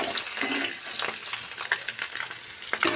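Boiled duck eggs frying in oil with a little turmeric, a steady close sizzle with light bubbling crackle and a few soft clinks of a stirring utensil, no voices.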